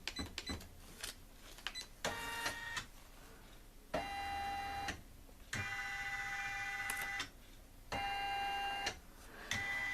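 An embroidery machine traces a design on a cap held in a Durkee hat hoop, giving bursts of whirring motor drive with beeping tones and clicks, separated by brief pauses, close by with no talk.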